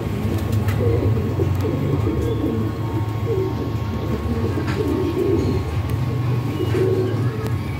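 Pigeons cooing steadily in a loft of red-eyed fancy pigeons, a continuous low murmur of overlapping coos close by with faint chirps above, no talk.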